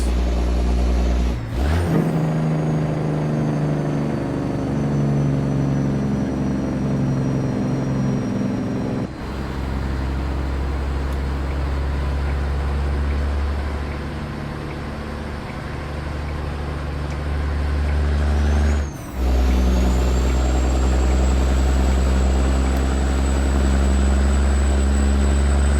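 A heavy International 9300 truck engine in American Truck Simulator drones continuously at close range, with its pitch shifting as gears change and occasional sudden cuts in the sound.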